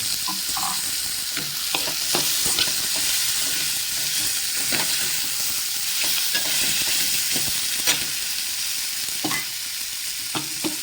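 Potato pieces sizzle and fry in hot oil with turmeric for Maharashtrian pea rice, steady crackling broken by occasional stirring scrapes, close and continuous with no talking.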